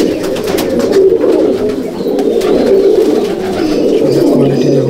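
Pigeons coo steadily in a loft housing mature birds, a dense, continuous murmur of overlapping low calls from several birds close by, with no talk.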